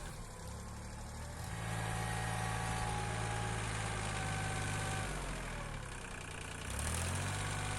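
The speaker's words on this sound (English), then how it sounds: "in the first step I go with the tractor down the hill" A tractor engine rumbles steadily nearby, its low drone rising and falling slightly as the revs change.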